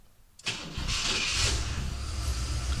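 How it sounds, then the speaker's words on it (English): A 1966 Oldsmobile Toronado engine, started by remote with no key, cranks and catches after a short silence, then settles into a steady, close idle with a low rumble. "we can hear the engine is running"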